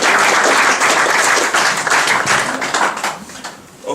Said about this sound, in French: ils m'applaudissent vraiment et très fort